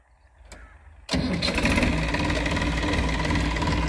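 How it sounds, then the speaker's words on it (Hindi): A Massey Ferguson 245 DI tractor engine cranks briefly, then catches abruptly and settles into a loud, steady diesel idle close by, with no talking. "ट्रैक्टर कर लिया सरदार जी ने स्टार्ट, मैसी फर्ग्यूसन 245 DI"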